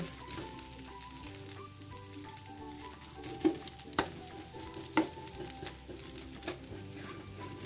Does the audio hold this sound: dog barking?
no